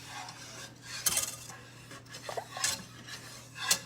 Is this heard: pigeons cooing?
no